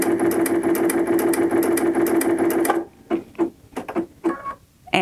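A Baby Lock Aerial sewing machine stitches in a loud, rapid mechanical whir for nearly three seconds, then slows into short separate bursts of stitches with gaps between them.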